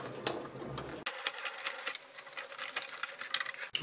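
Sewing machine stitching layered fabric for a round fabric box, a rapid rattling mechanical run that briefly pauses and then resumes close up, with no talk.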